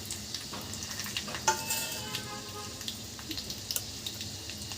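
Mustard seeds, cumin, chana dal and urad dal fry in hot oil for a South Indian tempering, giving a light, steady crackle and sizzle with a few sharper pops, close and fairly quiet, with no voices.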